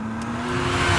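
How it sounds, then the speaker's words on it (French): A car drives in a car-theft simulator video game based on The Simpsons, with a steady engine drone and a rising tone, all in one short, continuous burst. "ce simulateur de vol de voiture"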